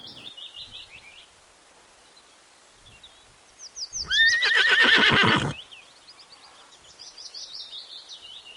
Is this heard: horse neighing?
yes